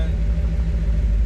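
A 1934 Ford coupe engine idling at about 800 RPM, a steady low rumble close by with a slight uneven pulse, with no other sounds over it.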